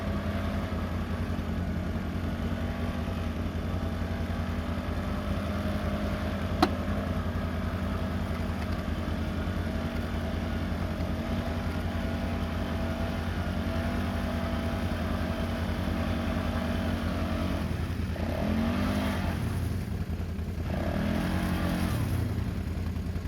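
A 2021 Can-Am 850 XMR ATV engine runs steadily at a low idle-like drone, then revs and pulls away toward the end, the sound rising briefly and fading slightly with a faint background voice.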